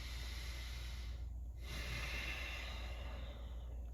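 A single deep breath drawn slowly in through the nose and let out again, soft and close, with a brief pause between the inhale and the exhale over a low, steady background hum.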